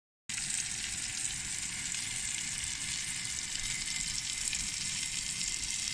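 Marinated chicken thighs frying on a Coleman camping stove outdoors, a loud, continuous close-up sizzle and crackle of hot fat that runs evenly and alone for several seconds.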